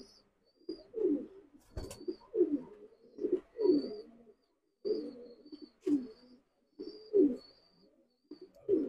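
Caged Pakistani teddy pigeons coo in repeated soft, throaty phrases at an even rhythm, close by and fairly quiet, with a few faint clicks between calls and no talking.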